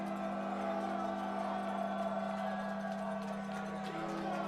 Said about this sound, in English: And listen to that Chapman crowd.